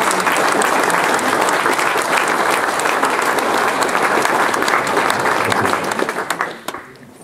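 Audience clapping at a sports club season-summary gathering in Olsztyn, a loud sustained round of applause from a crowd that tapers off over the final second.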